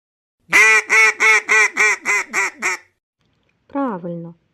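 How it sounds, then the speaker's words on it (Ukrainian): A duck quacks in a quick series of about eight loud, evenly spaced calls, then a short pause and one more double quack. "А давайте послухаємо звук качки."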